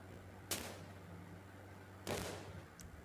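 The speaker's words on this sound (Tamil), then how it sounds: "ராக்கெட் லான்ச் விடுவோம்." Two rocket launches in the mobile game Indian Bike Driving 3D, each a sudden burst with a short whooshing tail, heard over a steady hum of game background sound.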